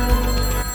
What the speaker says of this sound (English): His phone rings.